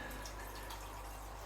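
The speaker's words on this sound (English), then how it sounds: "It's got a waterfall and cascade." Water pouring steadily from a small waterfall and cascade feeding 500-litre fish tanks in a backyard fish shed, a faint continuous splashing trickle with light drips.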